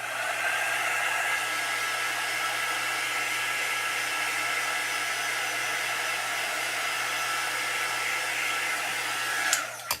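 A hair dryer blowing on glow-in-the-dark paste on a Chalk Couture board, a steady, close, loud whooshing hum that runs unbroken before clicking off at the end.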